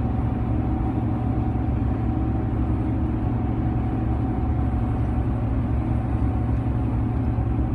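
A car engine pulls uphill with a steady, loud mid-pitched drone and low rumble, holding an even level throughout with no voices.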